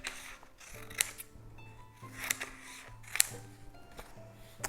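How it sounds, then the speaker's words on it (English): Scissors snip through strips of grey card in three sharp, separate cuts, with soft handling and rustling of the card between them, close and fairly quiet. "just going to cut 2 strips out of the grey card"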